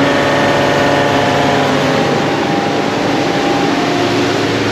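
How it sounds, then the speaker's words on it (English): A loud, steady diesel engine on a Leopard 50 catamaran at sea drones continuously with a constant low hum and mechanical whine, no variation throughout. "we have to run the diesel engines to get to where there is wind"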